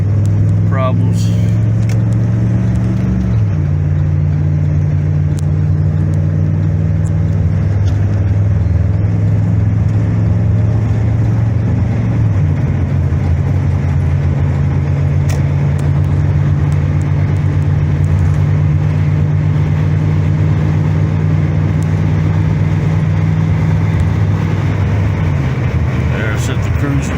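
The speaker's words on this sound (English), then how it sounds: "See if the old heavy Chevy can get on the highway without any problems." An old, heavy Chevy accelerates onto a highway, its engine droning loud and steady with low pitch shifts as it builds speed, a voice talking over it.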